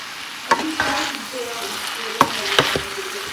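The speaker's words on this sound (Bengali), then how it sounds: "তো কিনোয়াগুলো আমি আগে থেকে সিদ্ধ করে নিয়েছি, এর মধ্যে দিয়ে দিচ্ছি।" Cooked quinoa being stirred into a hot pan, with a soft frying sizzle underneath and a few sharp scraping knocks of the spoon against the pan.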